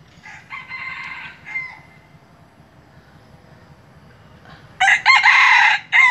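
A bantam rooster crossed with a white-eared junglefowl crows loudly and close by, one long call early on and another strong crow near the end, with quiet background between.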